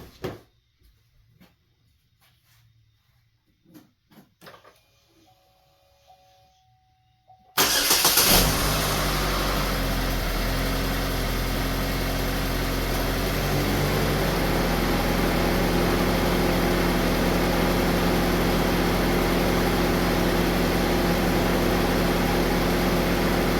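A 2014 Chevy Equinox with the 2.4L engine, just after a cam phaser replacement, starts abruptly after some quiet clicks and rustling, then settles into a loud, steady idle that runs continuously and close up with no talk.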